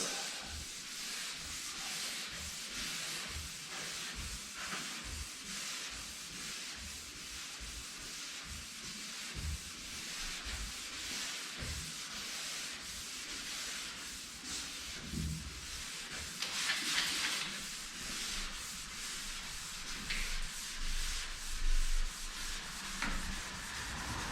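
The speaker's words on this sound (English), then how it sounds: "it ain't gonna take a whole lot to get it sanded" Close, steady sanding of a Suburban's body panel, a continuous gritty rubbing rasp with rhythmic back-and-forth strokes and occasional louder pushes, no talking.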